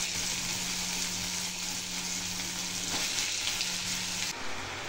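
Tomatoes and green chilies hit hot oil and sizzle loudly, a dense continuous crackling frying sound that stays steady throughout.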